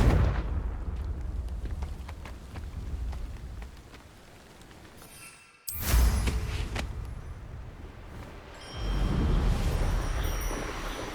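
Confringo fire spell blasts in Hogwarts Legacy, a roaring burst of fiery explosion with crackling debris, a sharp loud impact midway after a brief quiet, then another swelling rumble.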